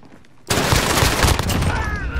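P90 hip-fire gunshots in the Modern Warfare video game, a sudden burst of rapid automatic fire that kicks in loudly after a brief quiet moment and keeps going as a dense, close stream of shots.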